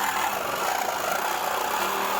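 A power tool cutting through car parts during race-car prep, a steady close buzzing whine that holds level and unbroken throughout.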